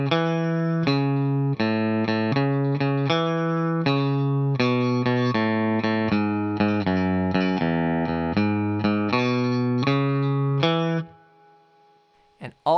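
Electric guitar playing the last four bars of a solo, a run of crisp, evenly picked single notes and double-stops with light effects, stopping abruptly before a brief silence and a soft knock at the end.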